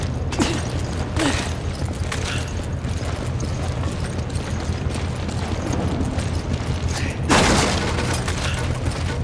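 A grenade blast in Resident Evil 5: a sustained rumbling, booming game soundscape with a heavier burst near the end, loud and close, with no voices over it.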